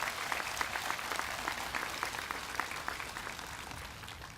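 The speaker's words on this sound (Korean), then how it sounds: "우리 총대리 신부님 위해서 박수 한번 쳐드렸으면 좋겠습니다" A church congregation applauds the vicar general at a Catholic diocese blessing ceremony, a steady, moderate patter of many hands clapping at a middle distance and lasting throughout, with no talk over it.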